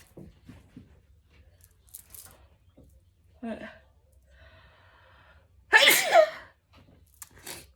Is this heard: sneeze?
yes